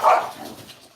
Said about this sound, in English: dogs are fucking killing each other